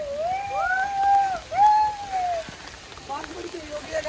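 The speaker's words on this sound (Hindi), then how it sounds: "बारिश बड़ी ज़्यादा तेज हो गई है," Heavy rain pours steadily at an outdoor water fountain laser show, with crowd voices and a few rising, wavering vocal calls heard over the constant downpour.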